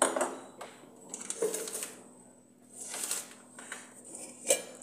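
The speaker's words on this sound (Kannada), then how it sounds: "ನಾನು ಒಂದು ಪಾತ್ರೆನ ಇಟ್ಟಿದ್ದೀನಿ" A cooking pot set down on a home kitchen stove while making tomato sauce, giving a few light metallic clinks and knocks, quiet and close, with no talk over it.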